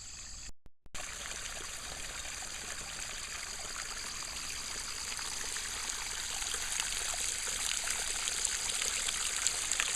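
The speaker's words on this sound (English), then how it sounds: "Let's listen to the water a little longer." Steady flowing water at Frazier Mill in late July, a stream trickling and gurgling continuously at close range, with no voices.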